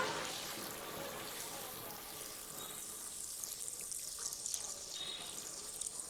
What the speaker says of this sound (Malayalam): നമുക്ക് കുറച്ച് വെള്ളം കൂടെ ഒഴിച്ചു കൊടുക്കണം